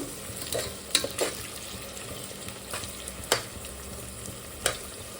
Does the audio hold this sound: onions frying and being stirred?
yes